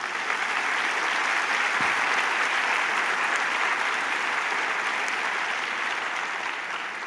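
A church congregation applauds Jesus during a devotional service, a dense, steady wash of many hands clapping at moderate loudness, continuing without a break.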